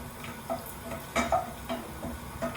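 Bay leaves, cinnamon sticks and green cardamom stirred in hot oil, a spoon clinking against the pan in several separate knocks over a light sizzle, close and moderately quiet.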